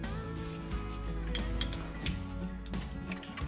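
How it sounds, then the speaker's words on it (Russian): A screwdriver tightens a screw on a Brother KH-893 double-bed knitting machine, giving close metallic ratcheting clicks and faint creaks over a steady mechanical hum. "Отверточкой докручиваю и затягиваю."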